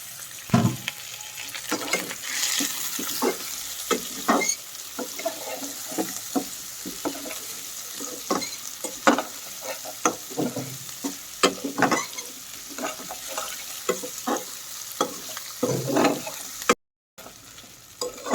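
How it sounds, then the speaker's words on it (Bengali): Potatoes and onions sizzle in a pan for Bengali pabda fish curry, with a steady fry broken by repeated clattering stirs and scrapes of the spoon, close and fairly loud, no voices. "আলুটাও একটু পেঁয়াজের সাথে ভেজে নিচ্ছি।"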